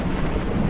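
Steady rumbling thunder with a wash of rain in a Ranch Simulator storm, a continuous low roar filling the short stretch without any break or voices.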